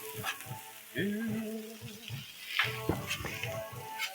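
Chopped peppers and other food sizzle and crackle on a Blackstone griddle, a steady close frying hiss broken by scraping spatula strokes and bursts of louder sizzle, with soft voices in the background.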